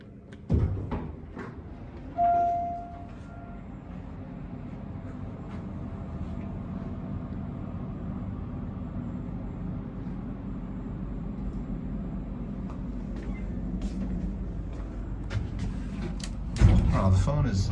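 An Otis traction elevator in a hotel runs with a steady low mechanical hum and rumble, a brief chime near the start and clunks at the start and end of the ride.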